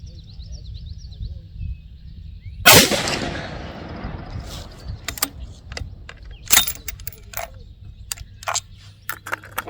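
A rifle fires RDF rounds at an outdoor range: one sharp, loud report hits early, and a scatter of smaller clicks and knocks from handling the gun follow.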